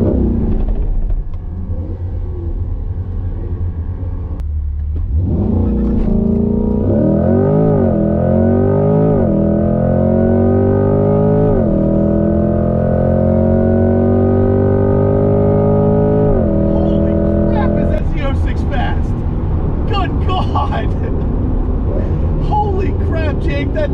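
A C8 Corvette launches hard down a drag strip with a loud, close engine that revs and rises in pitch through several gear changes, then a crowd and other noise take over near the end.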